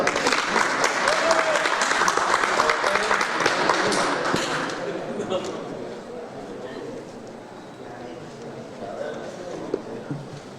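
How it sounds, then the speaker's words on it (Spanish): Sustained audience applause at a medical talk fills the first five seconds, loud and dense, then fades to a quieter murmur of scattered clapping and room noise. "Un aplauso para recibir al doctor."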